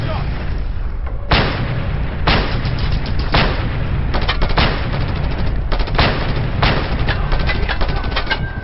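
Video game gunfire in Just Cause 2: repeated sharp loud shots and bursts at irregular intervals, with heavy rumbling combat noise underneath throughout.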